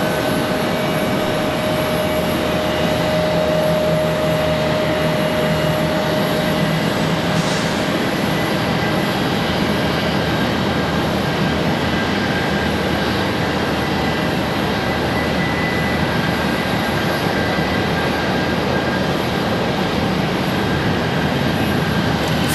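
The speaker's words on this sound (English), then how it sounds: "We've got Contour Airlines getting ready for their departure. Another ERJ." A Contour Airlines ERJ regional jet departs from Charlotte Douglas, its steady broadband engine rumble sustained at moderate loudness for over twenty seconds, with no talking.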